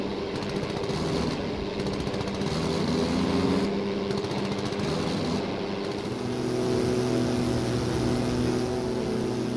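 A biplane engine drones in Wings Over Flanders Fields, a continuous buzzing rotary growl with shifting pitch that stays prominent and steady, without any voices.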